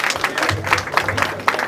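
Applause from the audience at a school declamation contest, honoring all the participants: a moderate, steady patter of many hands clapping together for under two seconds, with a low hum of room noise underneath.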